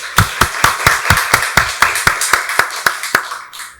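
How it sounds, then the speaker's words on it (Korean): A church congregation at Sunday worship claps in unison, about fifteen loud, evenly spaced claps in a steady rhythm that taper off at the end. "박수로 하나님께 영광 돌리겠습니다"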